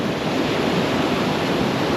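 Ocean waves break and churn in a steady, roaring wash of surf, loud and close with some wind buffeting the microphone and no talking.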